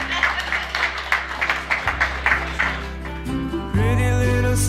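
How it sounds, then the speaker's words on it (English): A studio audience claps for Michael, a guest on The Russo-Souhan Show podcast, in a short burst of uneven, thin applause that gives way to a loud music intro with singing. "Give Michael a round of applause"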